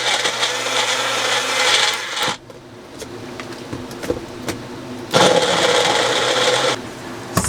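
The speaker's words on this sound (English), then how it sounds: "So it's not the best blender," A small countertop blender whirs inside a camper van in two loud, steady bursts, with a quieter stretch of rattling and clinking between them and no talking.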